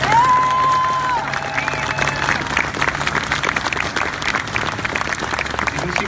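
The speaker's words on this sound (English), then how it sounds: "guys, clap for them." Crowd at a student rally for safer schools breaks into sustained applause, with loose clapping and some cheering and voices mixed in, continuous and fairly loud.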